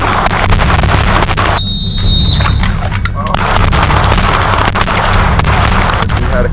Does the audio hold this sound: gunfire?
yes